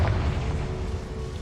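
In Hogwarts Legacy, the Confringo explosive spell goes off as a deep, rumbling blast. It stays loud and sustained through the whole short moment, with no speech over it.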